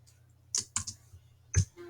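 A computer mouse clicks a few times while dragging across a spreadsheet, giving sharp, close, quiet clicks in an irregular cluster over a low background hum.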